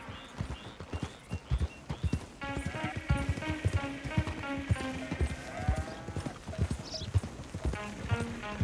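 Horse hooves clip-clopping at a steady trot in Red Dead Redemption 2, near and continuous under a swelling music score, with a brief whinny.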